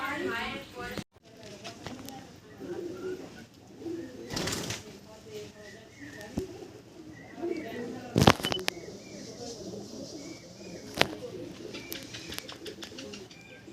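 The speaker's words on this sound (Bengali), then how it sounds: "দুটো সিলেটি পায়রা আপনারা তো দেখা পাচ্ছেন" Two Sylheti pigeons coo softly in low, rounded calls. Louder clicks, handling knocks and background noise break in now and then, and a person talks intermittently close by.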